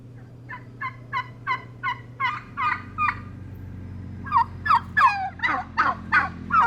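Domestic turkeys gobbling in a flock on a Mexican cacao and chocolate farm, with a run of rapid rattling gobbles followed by a louder, denser burst of several birds calling together, close by, with no speech.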